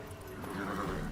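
Roach, the horse in the video game Witcher 3, gives one clear, close neigh that rises into a shaky whinny, with a faint rumble underneath.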